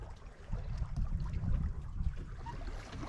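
A sailboat running with the wind, sail partly let out: steady low rush of water along the hull and wind, continuous and fairly quiet with no voices.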